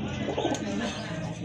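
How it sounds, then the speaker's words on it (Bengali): A pair of pait racer pigeons coo softly in a pigeon loft, low murmuring calls fairly quiet against a faint background hum, with no speech. "আর এখন কিন্তু দেখতে পাচ্ছেন এক জোড়া পাইট রেসার কবুতর আছে।"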